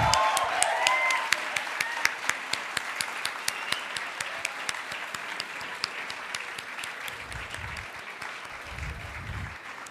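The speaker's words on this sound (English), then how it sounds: "let's hear a tremendous round of applause for our very own distinguished alumnus, Chef Vikas Khanna." A hall audience at a hospitality school applauds a visiting celebrity chef and distinguished alumnus, a steady, fairly close round of clapping with sharp individual claps standing out and some low rumbling near the end.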